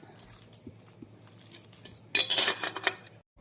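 Rice is mixed by hand on a plate with fried chilli oil and salt: quiet, soft squishing at first, then a short burst of louder clinks and scrapes against the plate before it falls silent.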